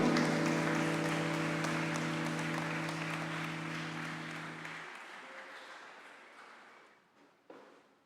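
A church congregation at a solemn Epiphany Mass claps, broad and dense applause sustained over a steady organ chord that cuts off midway, after which the clapping thins and fades out, with one sharp knock near the end.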